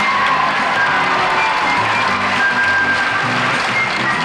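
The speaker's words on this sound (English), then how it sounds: "let's have a brisk round of applause for her" A 1971 television game show studio audience bursts into loud, sustained applause with some cheering, steady throughout as a dense wash of clapping.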